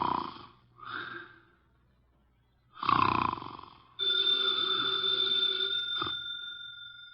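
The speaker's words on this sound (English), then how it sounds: "he's making sounds through his nose" A heavy man snores through his nose in a Nero Wolfe radio drama: a few rough, snorting breaths, loud and close, then a telephone bell rings steadily over a further snort.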